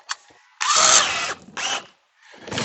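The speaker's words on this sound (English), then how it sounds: "and I use a drill with a paddle to mix." A power drill with a paddle attachment whirs in short bursts while mixing concrete in a bucket, starting and stopping, with a gritty mechanical whine close by.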